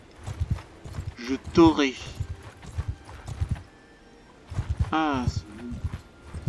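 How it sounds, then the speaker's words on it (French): Horses gallop in the medieval battle game Mount & Blade II Bannerlord, with steady rapid hoofbeats throughout. Two loud whinnies rise above them, and someone talks in French over the action. "on est 20, on est à cheval, on n'arrive pas à les attraper."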